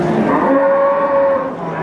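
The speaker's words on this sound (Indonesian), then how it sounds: "Ada sapi pegon." A single cow moos loudly and close by at a crowded cattle market in Central Java, a long drawn-out low call lasting over a second.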